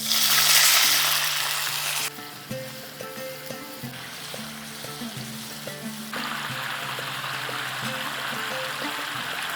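Water pours into poppy seed paste frying in a pan, a loud rushing hiss at first that gives way to quieter bubbling and sizzling with a few clinks, then a steadier simmer.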